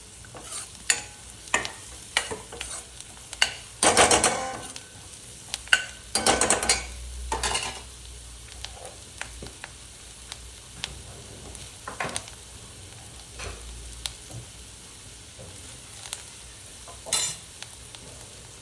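Capsicum sautéing in a pan for paneer bhurji: a soft, steady sizzle under intermittent scraping stir strokes and clinks of the spoon against the pan, close and unaccompanied by voices.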